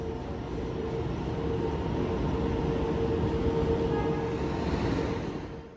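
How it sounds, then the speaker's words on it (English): A Kawasaki-built M8 electric multiple unit on the Metro-North line to Danbury gives a steady, loud rumble of running train noise with a faint tonal hum, holding level throughout before easing off at the end. "these are the M8 EMUs built by Kawasaki"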